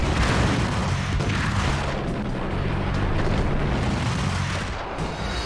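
Dual pistols blaze in the 2001 video game Max Payne, a dense, continuous barrage of booming shots blending into a loud roar throughout, with no speech.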